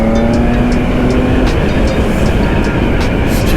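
A Triumph Speed Triple 1050 RS motorcycle engine drones loudly and steadily under rushing wind noise, a constant close roar with faint ticks and clicks through it.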